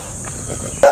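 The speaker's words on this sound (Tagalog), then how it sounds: "May aso." A dog on a mountainside barks once, a short sharp bark near the end after a brief quiet stretch with faint insect chirping behind.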